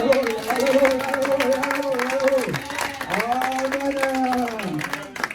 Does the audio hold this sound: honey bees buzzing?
no